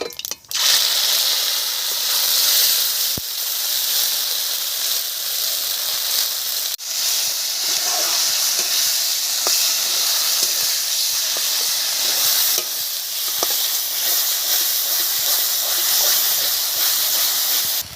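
Bottle gourd leaf paste sizzles in a small amount of hot oil tempered with cumin seeds, a steady loud hiss with scattered crackles and spits running throughout.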